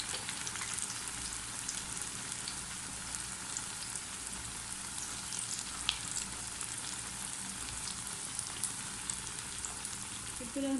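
Dahi bhalle frying on a tawa give a steady, faint sizzle with small crackles throughout, with no voices.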